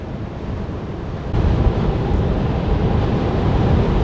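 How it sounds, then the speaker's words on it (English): Strong wind buffets a moving vehicle on a road trip, a loud continuous rushing roar that swells a step louder partway through, with no voices. "We got a lot of wind."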